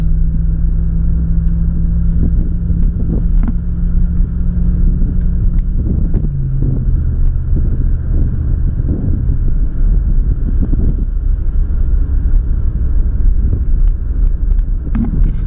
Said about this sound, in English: I'll just get up to cruising speed. Just cruise at about 50, 60, maybe 70. So you can see it goes all through the gears.